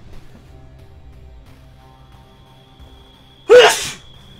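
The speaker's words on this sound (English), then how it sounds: "I'm gonna sneeze for a moment." One sharp, loud sneeze bursts out suddenly near the end, following several seconds of near-silence at a gaming commentator's desk.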